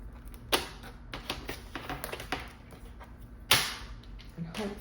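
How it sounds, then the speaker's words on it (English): A paper trimmer slices cardstock in sharp clicks and short scraping strokes, two louder snaps standing out, close up over faint background noise. "I'm going to bring in my paper trimmer, and I think I'm just going to trim it"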